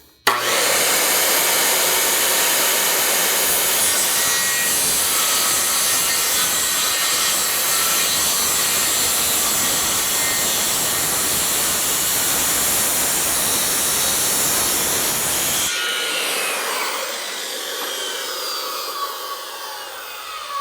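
A saw cuts steadily along a marked line in deck framing lumber, a loud, continuous rasping close by that lasts about fifteen seconds before it stops and faint handling noises follow.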